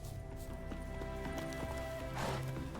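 A horse gallops with steady, rapid clip-clop hoofbeats in The Witcher 3: Wild Hunt, Hearts of Stone expansion, close and continuous over game ambience.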